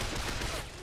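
Rifle and SMG gunfire in a 1v1 Valkyrie video game tournament match, a dense, loud burst of overlapping shots running through the whole moment, with a commentator's voice mixed in.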